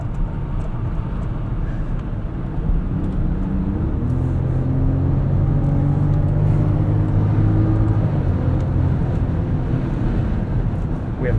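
A 2022 Range Rover LWB driven through corners in dynamic mode, with a loud steady low engine and road drone from inside the cabin, tone rising and shifting midway, with wind noise and no talk.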